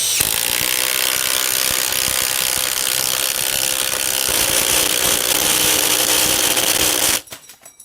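New Makita high torque impact driver drives a screw with no pilot hole, giving a loud, close, continuous rapid hammering rattle for about seven seconds before it abruptly stops.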